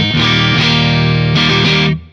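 Electric guitar played through a Synergy Syn20IR preamp with the TDLX module on its blue channel, giving a loud, saturated tone with two sustained chords that ring out and fade at the end, no voices.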